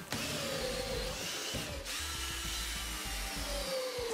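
A power drill whines steadily for about four seconds, its motor pitch dipping briefly midway as it bites into wood, drilling holes, close and loud.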